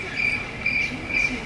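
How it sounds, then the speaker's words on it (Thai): Crickets chirp in short, regular bursts, a high pulsing trill repeating three times against a quiet background. "เสียงจิ้งหรีดขึ้นมาเลย"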